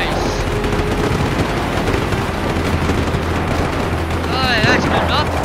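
Gunfire and explosions roar continuously in Just Cause 3, a loud dense barrage with rumbling blasts and a few sharper whizzing shots near the end.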